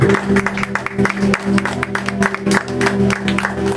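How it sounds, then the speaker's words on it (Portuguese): Congregation applause in a church service, a dense wash of hand claps over a low sustained organ or keyboard tone, steady and fairly loud throughout. "Pode bater uma salva de palmas para a gente."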